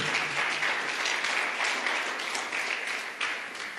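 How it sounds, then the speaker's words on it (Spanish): A church congregation claps hard in praise during a Spanish-language service, a dense, sustained burst of many hands that stays strong and even for a few seconds, with no voices rising above it. "dele palmas fuertes a su Dios"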